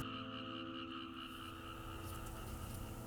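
Frogs croaking at night near Toguchi, a dense, steady chorus of pulsing tonal calls that fills the air without a break, with no one talking.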